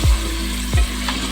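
Pieces of gosht fry in a pan for aloo gosht curry, giving a loud, close, continuous sizzle with low thumps as the pan is jostled.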